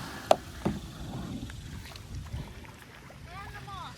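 A Pelican Argo 100X kayak is paddled on open water, with faint splashes and soft knocks over wind noise. Muffled voices of an adult and someone talk nearby.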